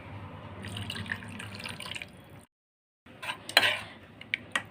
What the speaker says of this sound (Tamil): இப்போ நம்ம எடுத்து வச்ச தண்ணி எடுத்து இதில் ஊற்றிடலாம்.